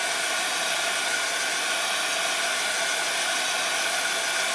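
A hair dryer blows a steady, even rushing hiss while drying watercolor washes on paper, constant and fairly close throughout, with no speech.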